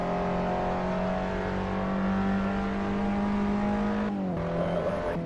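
Virtual race car at Knockhill in Assetto Corsa holds a steady, loud engine drone crossing the finish line, then the pitch drops sharply as the throttle eases near the end.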